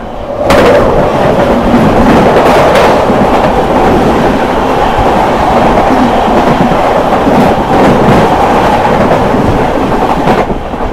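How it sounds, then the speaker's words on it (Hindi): The Anand Vihar–Puri Purushottam Express thunders past at close range, a loud continuous roar of wheels and coaches with rhythmic clattering over rail joints lasting the whole stretch, no voices over it. "ये थी दोस्तों आनंद विहारपुरी पुरुषोत्तम एक्सप्रेस।"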